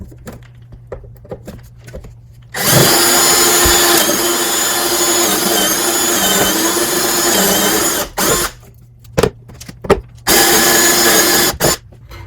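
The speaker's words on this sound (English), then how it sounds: "So I just keep pushing the drill bit through until I get to that" A power drill whines loudly in one long run as the bit bores through metal, then stops and starts in a few shorter bursts, close to the microphone.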